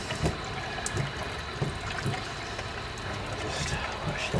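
Running water rinsing soap off hands, a steady close splashing stream with small irregular bursts of splatter throughout, heard on its own with no talk.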